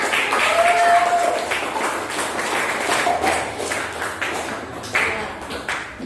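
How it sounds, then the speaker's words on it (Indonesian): A school class applauds a student group's presentation on condensation, with brisk clapping rising and falling over several seconds alongside speaking voices. "Beri tepuk tangan."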